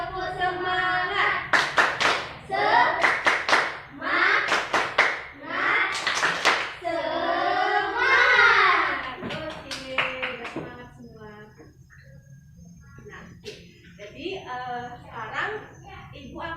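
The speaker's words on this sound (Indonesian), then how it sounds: "1, 2, 3. Tepuk semangat." A class of children claps a rhythmic spirit cheer together in a classroom, bursts of sharp, fast hand claps in a patterned sequence, with children's voices chanting along and a teacher talking.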